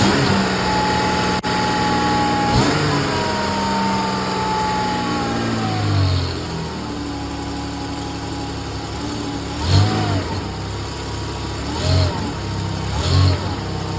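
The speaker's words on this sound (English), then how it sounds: "Now I'm gonna rev it a little bit down here." A Dodge Charger with an exhaust leak revs up from idle several times, a steady engine drone rising into short throttle blips near the end, loud and close.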